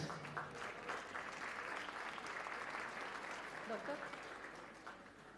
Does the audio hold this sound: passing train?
no